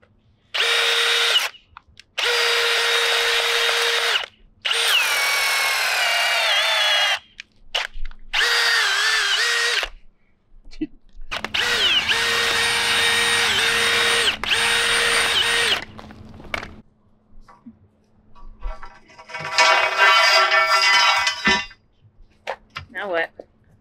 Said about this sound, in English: Holy mackerel, that's a powerful drill.